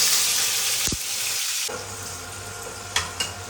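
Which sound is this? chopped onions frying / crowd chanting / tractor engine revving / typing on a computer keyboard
chopped onions frying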